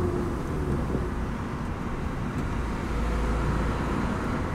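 A car accelerates in third gear during a driving lesson, its engine giving a steady, fairly loud drone with road noise and no speech.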